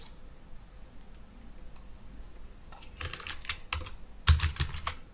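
Rapid clicking of computer keyboard keys while an SQL command is typed, starting sparse and building into a quick irregular burst of keystrokes, close and fairly clear with no talk.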